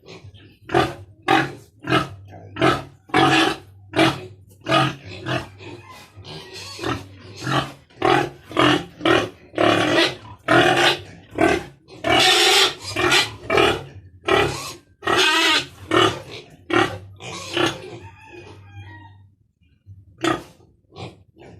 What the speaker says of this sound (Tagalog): Ang ingay ni Mama Pig